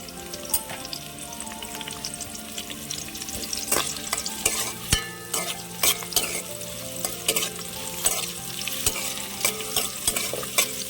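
Food sizzles and crackles in hot oil as it browns, while a spoon repeatedly scrapes and knocks against the pan in an uneven stirring rhythm.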